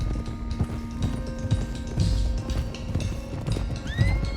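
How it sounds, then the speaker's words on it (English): Several horses galloping in Red Dead Redemption 2, a dense stream of hoofbeats with a neigh rising near the end and no talk. "let's get these horses to Clemens Cove quick before we run into any more trouble"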